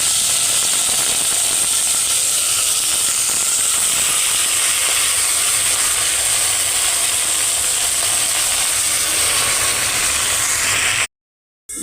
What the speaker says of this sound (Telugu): ఇప్పుడు గోంగూరని కొంచెం మగ్గనిద్దాం